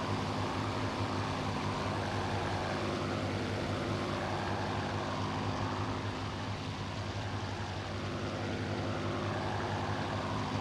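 Clipped-wing Spitfire in the IL-2 Sturmovik: Battle of Bodenplatte flight sim, its propeller engine droning steadily and loudly throughout with no pauses and no talk.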